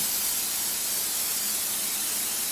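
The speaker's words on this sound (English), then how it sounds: "And I'm going to spray it." A short, steady spray of non-stick cooking spray hisses close by, a continuous burst of bright noise without a break.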